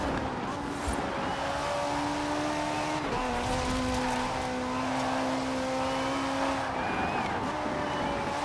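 A race car's engine drones steadily, with gear shifts and tire noise, during an online race in the Forza Horizon 4 video game. The engine is loud and continuous throughout.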